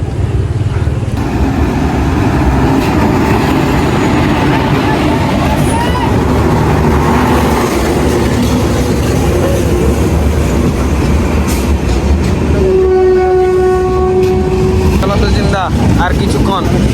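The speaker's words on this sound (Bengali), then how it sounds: "ফাইনালি ট্রেন আসছে।" Train pulling into Kanthi railway station on the way toward Howrah, a steady loud rumble of wheels and engine filling the platform, with a sustained horn-like tone near the end and people talking over it.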